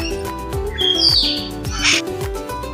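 Birds calling from aviaries at Bengal Safari Park in Siliguri: a few clear chirps and squawks stand out over steady background noise, moderately loud and close.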